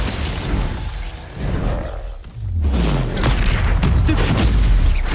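A Glacius ice spell strikes in the Hogwarts Legacy video game, giving loud cracking, shattering impacts and heavy booms that build into a dense, continuous barrage of game combat noise.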